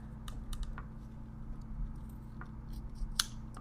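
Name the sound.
scissors cutting pickleball paddle grip tape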